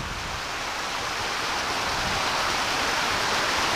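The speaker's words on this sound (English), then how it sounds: "Got a nice little waterfall, though be it a man-made one." A small man-made waterfall tumbles down a breezy forested glen near Arrochar in Scotland, a steady, dense hiss of falling water heard alone and without pause.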